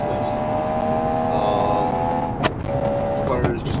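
A race car in a video game drives at high speed, its engine a steady, tonal whine under a voice talking, broken by brief scraping knocks against a wall.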